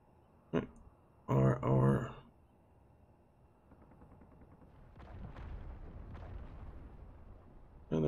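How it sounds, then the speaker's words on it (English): Gunfire in the modded survival game Space Engineers, with a few loud booming shots and bursts early on, then a longer rumbling stretch of distant firing, while players talk at times. "They're shooting."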